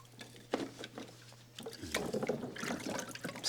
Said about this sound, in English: that's how I wash my cuttings